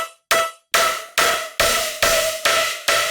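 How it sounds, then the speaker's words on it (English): Synth riddim pattern of repeated stabs, about seven sharp evenly paced hits with a bright metallic ring, each followed by a convolution reverb tail that fills the gaps between them; no voices. "First of all, I added this convolution reverb."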